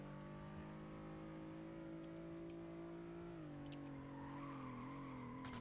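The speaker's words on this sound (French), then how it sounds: "j'y arrive même pas à faire un drift" A car in a video game skids through an attempted drift, the tires holding a long, steady squeal over engine drone that shifts pitch midway, fairly faint throughout.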